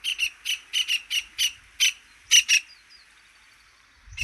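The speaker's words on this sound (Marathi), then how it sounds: "तर पक्षी पण काय म्हणतोय काय माहिती" A bird calls repeatedly in a rural farm field, giving about ten sharp, evenly spaced chirps that are clear and fairly close, with a few fainter trailing notes and no talking.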